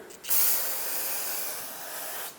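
Brake parts cleaner blasts from an aerosol can onto the front track bar area of a 2008-2010 Ford F-450 Super Duty, a loud, steady close-up hiss lasting about two seconds before cutting off.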